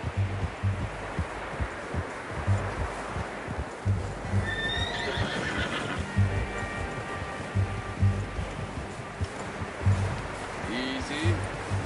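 A horse in Red Dead Redemption 2 whinnies a few times while rhythmic hoofbeats clop steadily beneath, with faint rustling in the background and brief speech over the top.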